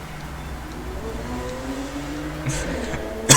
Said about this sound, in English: my mic still picks up like loud car noises